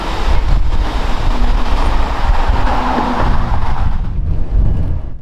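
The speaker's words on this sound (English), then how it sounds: "we watch this train roll out its final mile" A CN local freight train rolls along a backwoods railway near Lance Falls, a loud steady rumble of wheels and cars that thins out toward the end.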